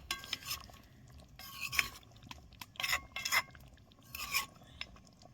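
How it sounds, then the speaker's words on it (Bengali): Chicken being stirred with spice masala in a pan, giving several short scraping, rasping bursts of a spoon against the pan at an uneven pace, fairly close and quiet, with no talking. "এখন আমি নেড়ে দেবো, মশলাটা ভালো করে মিক্স করে নেব।"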